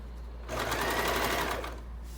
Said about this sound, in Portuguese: Então, continuo minha costura.